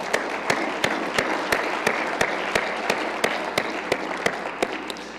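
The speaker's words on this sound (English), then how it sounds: "a round of applause to all those folks" Steady applause from a university opening-session audience, with a string of sharp, evenly spaced claps standing out above the wash, fairly close and continuous throughout.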